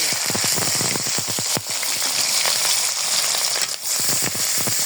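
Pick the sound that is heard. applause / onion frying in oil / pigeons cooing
onion frying in oil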